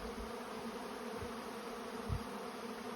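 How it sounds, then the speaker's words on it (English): A cloud of honeybees swarms a backyard during heavy robbing season, producing a continuous, dense buzzing drone with occasional louder passes of individual bees close by; no voices. "My yard is a cloud of bees."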